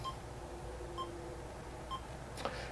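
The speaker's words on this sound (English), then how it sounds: "You got a little beeping." Faint, short electronic heartbeat beeps from an original Lazer Tag sensor sound once a second, three in a row, over a quiet hum, followed by a small click.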